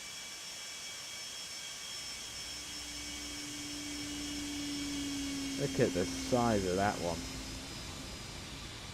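A Pan Am Boeing 747-200 jet passes overhead in the X-Plane 12 flight simulator, a steady broadband engine roar with a low drone that swells as it comes over, while a person talks briefly near the end.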